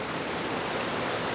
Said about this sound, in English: the violence of the waterfall in the background